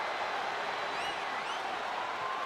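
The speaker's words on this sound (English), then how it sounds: "And do you hear this capacity crowd?" A capacity crowd at a no-holds-barred wrestling match roars steadily, a dense wash of cheering and applause that holds at full volume without break, with a few shrill whistles cutting through.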